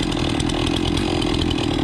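Chainsaw running at steady speed while cutting up a cherry tree, a close, loud, continuous buzzing whine.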